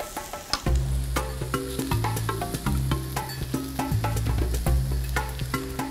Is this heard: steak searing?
yes